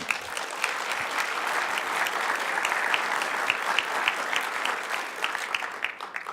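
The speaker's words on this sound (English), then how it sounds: "You guys are supposed to clap after I finish." A crowd applauds steadily during a mayor's State of the City address, a dense wash of clapping that holds at an even level from start to finish.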